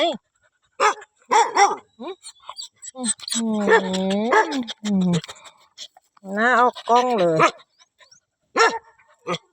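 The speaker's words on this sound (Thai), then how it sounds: "จะเห่าทำไม" A dog barks repeatedly in sharp bursts mixed with whimpers and high yips, close to the microphone, while a person talks in Thai between the barks.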